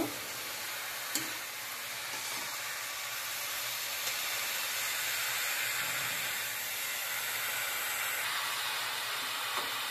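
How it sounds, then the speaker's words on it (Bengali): Ash gourd sautéing with turmeric, sugar and spices in a pan, giving a steady, fairly quiet frying hiss throughout, with occasional faint clicks from stirring. "দিয়ে আবার একটু নেড়ে চেড়ে নেব, নেড়ে চেড়ে একটু কষিয়ে নেব।"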